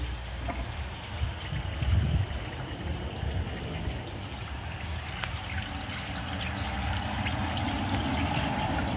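A damaged toilet with broken glass in the bowl flushes, water rushing and pouring steadily, then swirling and trickling on at a fairly close, even level without any voices.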